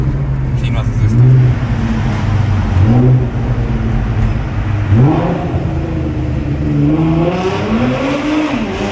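A sports car engine, one of several Audis, revs in a tunnel, loud and echoing, with the pitch repeatedly climbing and falling as the throttle is blipped, running under close talk the whole time.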